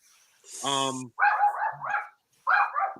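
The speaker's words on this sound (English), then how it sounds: "excuse my dog" A pet dog barks indoors in three loud, close bursts separated by short pauses, the first a high drawn-out yelp and the others sharp repeated barks.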